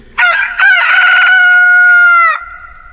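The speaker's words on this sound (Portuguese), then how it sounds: "o galo cantou" A rooster crows once, loud and close, in one long strained call that rises, holds and trails off, with nothing else around it.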